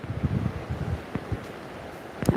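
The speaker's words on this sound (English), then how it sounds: "So you should be able to hear the river." A river runs full after Hurricane Melissa in Kingston, heard as a rough rushing wash mixed with wind buffeting the microphone, with a few knocks and thumps on top.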